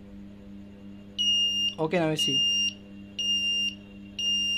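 An Arduino shield buzzer on pin 12, switched on and off by LabVIEW, beeps in steady long tones about a second apart, close and loud, with a short stretch of talk between beeps.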